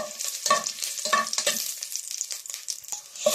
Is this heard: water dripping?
no